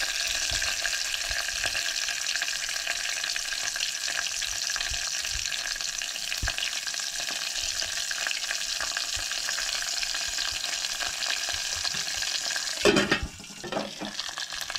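Cumin and mustard seeds sizzle and crackle steadily in hot oil while tempering for a Goan home-style dal, a continuous dense frying hiss with a brief louder clatter near the end.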